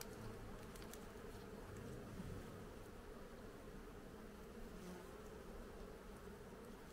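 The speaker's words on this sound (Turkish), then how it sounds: "Arılar biraz fazla saldırmaya başladı." Caucasian honey bees swarm around an opened hive during autumn care of the colony, a dense, continuous buzzing of many insects with no voices, steady and fairly faint throughout.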